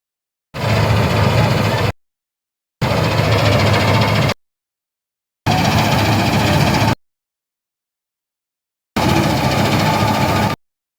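Tractor-driven wheat harvesting cutter engine running loudly and close by, heard in four separate bursts of steady mechanical roar with abrupt silences between them.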